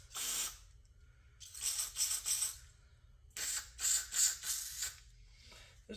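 Carb cleaner sprayed onto a Briggs & Stratton carburetor in three bursts of sharp aerosol hiss, each about a second long with short pauses between, close and fairly quiet, with light mechanical clicks.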